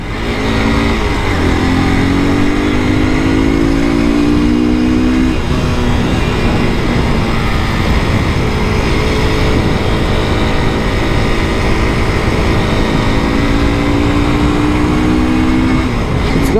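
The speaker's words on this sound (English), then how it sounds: "Throttling up and down, it feels really good." A Hero Xtreme 200S single-cylinder motorcycle throttling up and down while riding, engine pitch rising and falling in repeated sweeps under steady loud wind and road noise.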